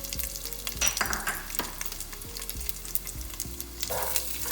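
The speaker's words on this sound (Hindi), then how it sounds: "अब इसको थोड़ा हम फ्राई करेंगे" Cashews, raisins and pistachios fry in a pan of hot fat for a zarda rice dish, a close, lively crackling sizzle broken by the clatter of stirring, with no talking.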